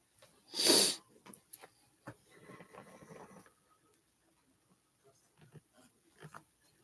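A single sharp sneeze up close, followed by quiet rustling, a sniff and faint movement noises.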